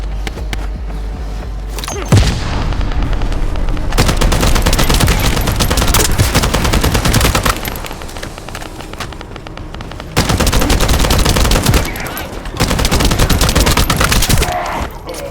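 Sustained bursts of rapid automatic gunfire in the video game The First Descendant, loud and dense, with brief pauses between volleys and scattered heavy thuds.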